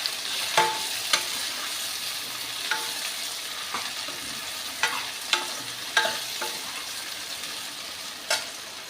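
Ridge gourd (ram tori) sabzi cooking in a pan, a steady soft sizzle broken by scattered scraping clicks of a spoon stirring against the metal, close and fairly quiet.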